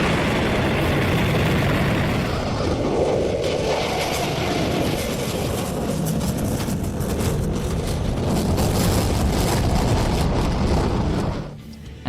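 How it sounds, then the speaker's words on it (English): A loud, steady roar of jet engines with a low rumble and broad hiss, sustained for over ten seconds before suddenly dropping away. "the horrible noise produced by fighter spy and commercial airplanes"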